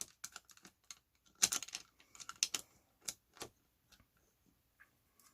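A standard gear is fitted by hand into an airsoft electric gun gearbox, making faint, scattered plastic and metal clicks and taps in a quiet room.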